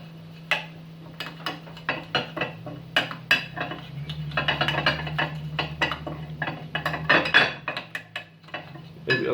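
A spoon scrapes and clinks against a bowl as spice paste is mixed with oil, in irregular close taps and knocks over a low steady hum.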